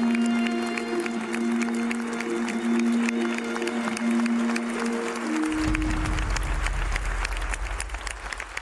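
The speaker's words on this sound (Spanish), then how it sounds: "Pues un aplauso también desde aquí." Loud, sustained applause with cheering fills a Senate chamber, steady and dense from start to finish, with a voice or tone under it early on and a crowd swell in the second half.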